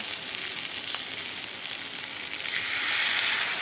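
Spice paste of cumin, coriander, Kashmiri chilli powder, turmeric and salt mixed in water sizzles loudly in hot oil in a pan, a close, constant hiss that swells a little toward the end.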